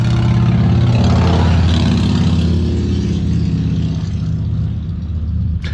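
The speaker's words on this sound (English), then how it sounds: "Hold on, motorcycle." A motorcycle's loud engine roars close by, its low rumble peaking early and then gradually fading as it moves away.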